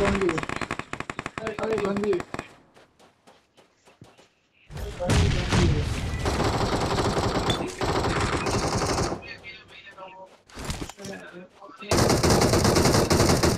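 Automatic gunfire rattles in a PUBG Mobile match as loud, rapid bursts broken by short silent gaps, with a long heavy barrage near the end and a player's voice shouting between volleys.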